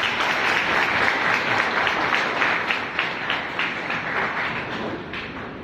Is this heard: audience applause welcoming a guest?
yes